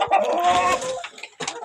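Chickens clucking inside a chicken coop at feeding time, a dense, close burst of overlapping clucks and squawks, then a short lull and a few more brief calls.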